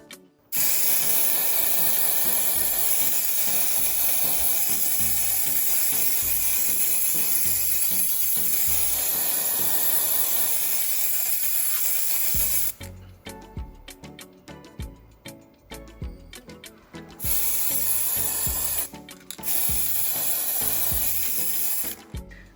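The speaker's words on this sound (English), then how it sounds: "Just take the spray can, spray paint over it." Aerosol spray can coating a toy Distortus Rex dinosaur figure with base-coat paint, a steady loud hiss in long continuous bursts broken by short pauses and rattling near the end.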